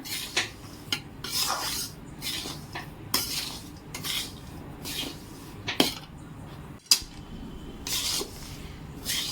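A metal spoon scrapes and stirs ladoo flour roasting in ghee in a pan, giving repeated rasping strokes and clinks at an uneven rhythm, close and moderately loud, with no talking.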